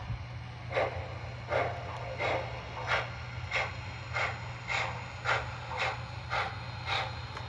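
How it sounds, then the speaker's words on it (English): Soft, rhythmic light-chuff setting from an MTH Protosound 3.0 model steam locomotive, about a dozen light puffs at a steady pace over a constant low hum. "we'll change from standard to light chuff"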